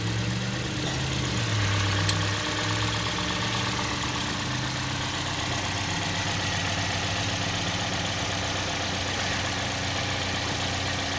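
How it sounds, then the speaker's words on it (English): A cold 2010 Toyota Yaris engine idles steadily and close by, a continuous low hum with a faint tick, no voices. "We're gonna keep the engine running"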